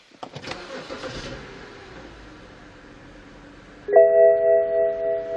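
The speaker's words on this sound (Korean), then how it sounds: "바로 시동 한번 걸어보도록 하겠습니다" A BMW 5 Series six-cylinder engine cranks briefly with the push-button starter, then catches and settles into a smooth, steady idle close by.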